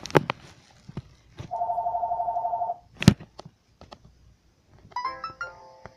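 A telephone rings partway through a home recording: one steady warbling electronic ring burst of about a second, surrounded by scattered clicks and knocks, then a brief tonal phone chime near the end, with no talking.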